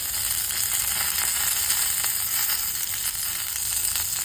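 Curry leaves and chillies sizzle in hot oil in a pan for karapudi, a dense, steady crackling hiss that runs throughout at close range with no talking.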